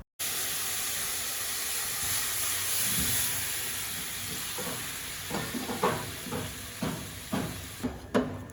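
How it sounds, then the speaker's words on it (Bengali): Onion fritters with small potato pieces fry in hot oil with a continuous close sizzle, and stirring scrapes and knocks punctuate it toward the end. "পেঁয়াজ কুলি ভাজি করতেছি একটু ছোট ছোট করে আলু দিয়ে"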